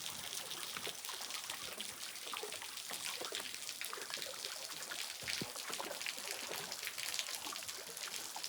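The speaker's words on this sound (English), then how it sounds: "There's water dripping off it" Rainwater dripping and trickling off a rock face beside a lake on a solo canoe trip, a steady close patter of drops and small splashes continuing throughout with no talk.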